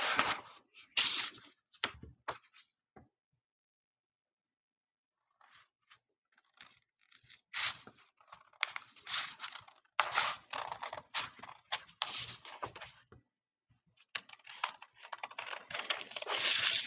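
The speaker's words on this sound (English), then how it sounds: "I'm going to cut along this line here." Scissors cutting through a paper pattern for a stained glass project, heard as crisp snipping bursts in uneven runs with a long pause partway through, fairly close and with no talk.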